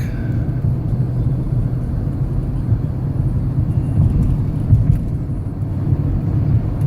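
Steady low rumble of a 2006 Chrysler 300C with its 5.7 Hemi engine cruising at about 20 mph after a Seafoam spray treatment, a constant drone with road noise throughout.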